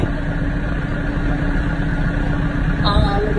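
A tractor engine idles with a steady low rumble and droning vibration heard from the cab, even and continuous, with a brief squeaky tone near the end.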